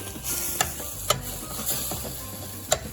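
Spoon stirring lime juice into a stuffed shells filling, soft close scraping and mixing with a few sharp clicks against the bowl.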